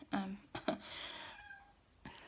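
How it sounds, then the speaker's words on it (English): A cat meows a few times indoors, short rising cries close by with a quiet room behind. "you can hear my cat meowing"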